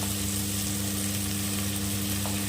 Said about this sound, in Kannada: ನೋಡಿ ಫ್ರೈ ಆಗಿದೆ ಇವಾಗ ಇದಕ್ಕೆ ಒಂದು ಅಷ್ಟು ಶುಂಠಿ ಬೆಳ್ಳುಳ್ಳಿ ಪೇಸ್ಟ್ ಹಾಕ್ಕೊಳ್ತಾ ಇದ್ದೀನಿ